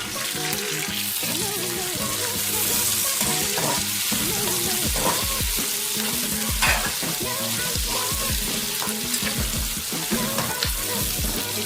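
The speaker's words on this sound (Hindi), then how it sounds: "इसको भी हम सौते कर लेंगे। फुल फ्लेम पे चाइनीज बनता है" Onions being sautéed over full flame for restaurant-style egg fried rice: a steady loud sizzle with repeated stirring scrapes of a utensil in the pan, no voices.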